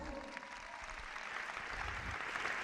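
Audience clapping at a Galician carnival murga competition, a steady wash of applause from a crowd, continuous and moderately loud across the moment.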